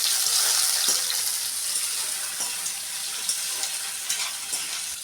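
Cluster beans (guar) fry in hot oil with a close, steady sizzle and soft crackling pops, a dense hiss that stays even throughout with no voices.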